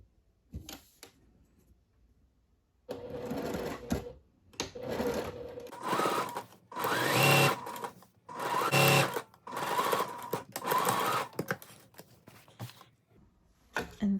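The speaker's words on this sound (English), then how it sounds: "So I'm going to sew up 1 inch from the bottom." A sewing machine stitches along the bottom edge of a bodice for a Fourth of July top in several close bursts of steady whirring, separated by short pauses and starting after a few quiet seconds.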